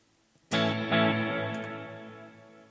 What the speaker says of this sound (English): the trails are going to keep going